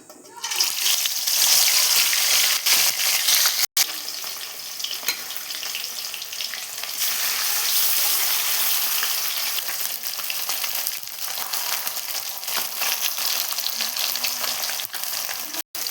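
Rohu fish frying in hot oil in a kadai, a loud, continuous close sizzle with bright crackling spatter throughout, briefly cut twice, with no clear talking.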